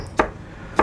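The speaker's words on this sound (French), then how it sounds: "Maintenant, le poivron en julienne." Two sharp knife chops on a board, spaced well apart, cutting bell pepper into julienne strips for Costa Rican gallo pinto, close and fairly loud against a quiet kitchen.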